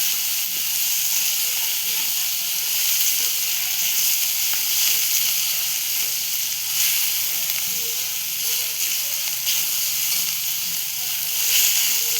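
Ginger garlic paste sizzles in a hot oiled pan while chicken kheema cooks, a steady bright hiss with faint crackles running unbroken for about twelve seconds under low talk.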